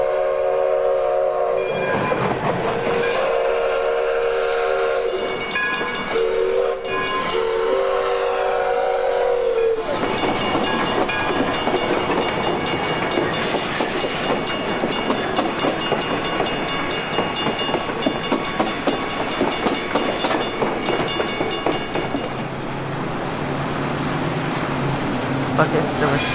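A 2-8-0 Consolidation steam locomotive sounds a long, loud whistle in bursts, then chugs and rumbles steadily nearby with clanking and hissing steam.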